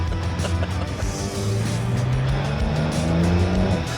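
Porsche 992 drifting: a loud continuous tire squeal and skid over the revving engine note, sustained for several seconds and close by, no speech.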